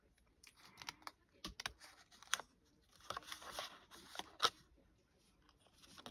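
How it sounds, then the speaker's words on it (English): Scissors fussy cutting card make a quiet, irregular series of crisp snips and rustles, with short pauses between cuts and no one talking. "I will cut along, fussy cut anything below those marks"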